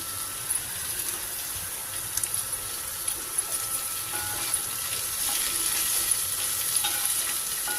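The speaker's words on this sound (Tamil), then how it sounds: "இதில் வந்து நான் வந்து கருவேப்பிலை கொஞ்சம் நிறையாவே போட்டுக்கிறேன்" Curry leaves frying and crackling in a pan of hot oil for a Tamil capsicum chutney, a steady close sizzle running throughout with faint stirring scrapes, no talking.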